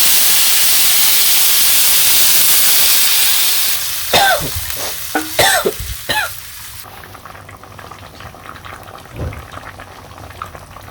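Water poured into a pot of sautéed potatoes for a village fish curry makes a loud hiss and sizzle that fades into softer bubbling, with stirring clatter from the pot.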